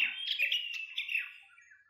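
A forest bird sings a quick, bright run of chirping notes for under two seconds. It is faint and distant, and nothing else is heard.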